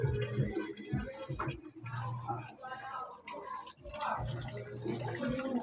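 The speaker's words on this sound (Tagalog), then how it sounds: "Tubig." Water runs steadily from a tap into a tub for rinsing laundry, a continuous splashing flow with brief gaps and someone talking over it.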